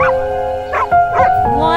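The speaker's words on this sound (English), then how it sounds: "One dog." A dog gives a few short barks and yips in quick succession, close and clear, on a farm, with no talking.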